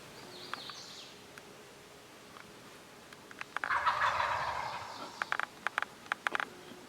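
A group of wild turkeys in Arkansas big woods gobbles together in one rolling burst at middle distance, followed by scattered single sharp calls and clicks over quiet forest ambience.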